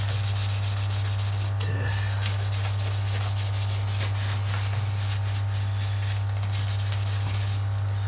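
A rag wipes a metal part clean of grease with brake cleaner, giving a close, scratchy rubbing in repeated strokes over a constant low electrical hum, with no talk.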